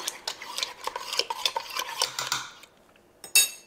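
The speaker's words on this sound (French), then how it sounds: "On mélange bien." A spoon stirring a thick courgette and pepper relish thickened with cornstarch, rapid scraping strokes against the pot for a couple of seconds, then a pause and one final clink, close and clear.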